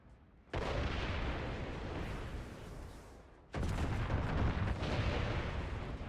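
Two loud, roaring blasts in the Far Cry 6 video game, the first bursting at about half a second and rumbling on, the second erupting around three and a half seconds with heavy low-end crackle.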